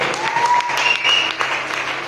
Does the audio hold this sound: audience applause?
yes